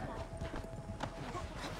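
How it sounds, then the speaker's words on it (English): Horse hooves clip-clop in Red Dead Redemption 2, a rhythmic patter of hoofbeats with a brief whinny, heard fairly faintly under game background noise and talk. "Get my horse."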